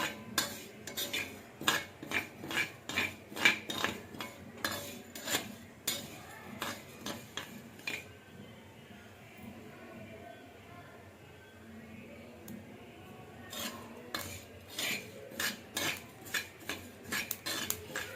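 Flaxseeds are roasted on a pan and stirred in brisk bursts of rhythmic metal scraping and clinking, separated by a quieter pause, close and without talk.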